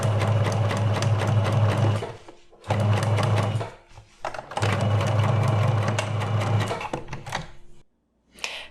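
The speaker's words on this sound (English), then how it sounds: "with a straight stitch, you'll be stitching 2 or 3 millimeters from the seam line all along the edge" Sewing machine running a straight stitch along fabric near a seam line, loud close mechanical whirring in three long bursts separated by short pauses, with brief clicks between runs.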